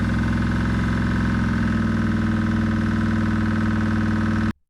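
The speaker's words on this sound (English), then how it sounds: "Eventually, the Thunderbird's engine started." A roughly 100-year-old abandoned Ford Thunderbird with a temporary carburetor, cleaned ignition points, heavy blow-by and worn internals runs with a steady, loud, rough idle that cuts off abruptly at the end.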